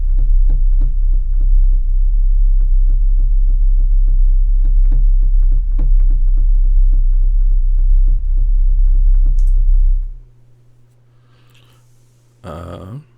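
Synth bass from the MSubLab plugin, with its main bass section lowered, plays a loud, deep throbbing pattern with regular clicky note attacks for about ten seconds, then stops, leaving a faint hum and a brief noise.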